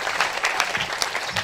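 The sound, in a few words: audience applause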